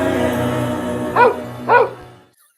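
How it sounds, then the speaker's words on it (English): A dog gives two distinct barks about half a second apart, fairly close and loud, over a faint background of music that fades out. "That is Lorraine's dog, Brogan."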